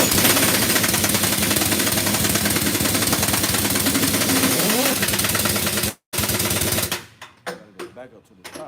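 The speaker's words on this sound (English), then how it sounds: "So we want to tighten the lug nuts, start from the top." Impact wrench tightening car wheel lug nuts in a diagonal pattern, a loud sustained rattling hammer for about six seconds, then a brief pause and a few short bursts before it trails off.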